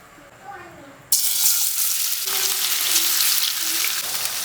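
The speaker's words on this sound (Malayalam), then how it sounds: "നമ്മുടെ എണ്ണ നല്ലതുപോലെ ചൂടായിട്ടുണ്ട്. ഇനി ഇതിലേക്ക് നമുക്ക് നമ്മുടെ പനീർ ആഡ് ചെയ്ത് കൊടുക്കാം." Paneer cubes drop into hot oil in a pan for a dhaba-style masala and set off a sudden, loud, steady sizzle that continues close by after a quieter start.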